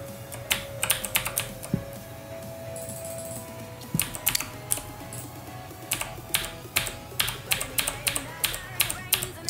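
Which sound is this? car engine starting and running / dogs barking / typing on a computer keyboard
typing on a computer keyboard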